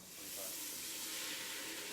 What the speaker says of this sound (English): See how it's a little bit of sizzling.